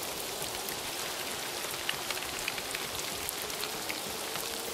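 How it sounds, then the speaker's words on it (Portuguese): Steady rain falls at night in a survival video game, a constant close hiss of drops with faint scattered taps and no speech. "À noite e chuva"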